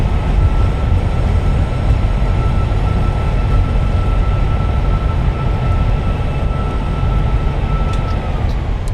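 A steady, loud, continuous roar from an Airbus A320's thrust reversers deploying during landing rollout at Auckland in a flight simulator, an unbroken rushing rumble with no talk.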